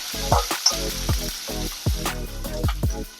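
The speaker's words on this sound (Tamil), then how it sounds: "பத்து பல்லு பூண்டு போட்டுக்கலாம். ஒரு துண்டு இஞ்சி. இதை நல்லா வறுத்துக்கலாம்." Ten cloves of garlic and a piece of ginger fry in hot oil in a pan, a close, steady sizzle and crackle broken by repeated stirring scrapes, with no one speaking.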